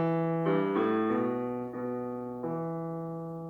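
Piano plays the bass line of the hymn Aberystwyth: a slow, low single-note melody of about five sustained tones that ring and decay, heard alone and close with no talking.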